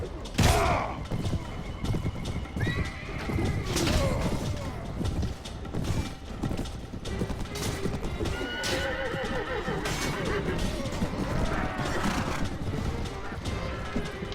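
Horses neigh repeatedly over a dense bed of galloping hooves, clashing weapons and battle noise in a Mount & Blade Warband medieval cavalry fight, loud and continuous throughout.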